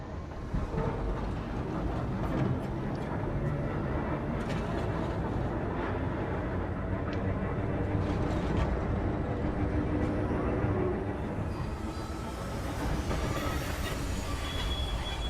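Tram running on rails in the sci-fi horror game Cronos: The New Dawn, a steady loud rumble of wheels and carriage with faint wheel squeal, continuous throughout with no break.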